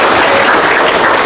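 An audience at a talk on earning money bursts into loud, dense applause that stays steady and close throughout the short stretch.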